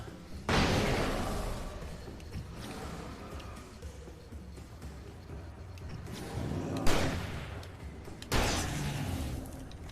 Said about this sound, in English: Throw goddamn flashbang.